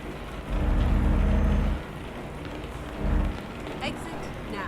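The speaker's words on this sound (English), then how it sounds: "It's a rainy morning" Steady rain in European Truck Simulator 2 on an early morning drive in Italy, a continuous hiss mixed with low rumbling engine and road noise that swells in a couple of heavier bursts.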